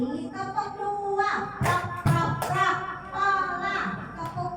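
Children in a classroom clap together in a chanted clapping game led by a teacher, sharp bursts of claps in small groups landing amid overlapping young voices chanting and talking.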